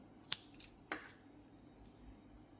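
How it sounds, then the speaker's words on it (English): Scissors snip through yarn at the end of a crochet piece, giving one sharp close cut followed by a couple of softer snips in an otherwise quiet room. "and cut your yarn."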